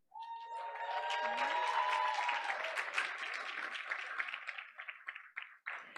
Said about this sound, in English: giving a big round of applause as we welcome the administrator of Roberts Elementary School, Principal Yosan Haley Merriam.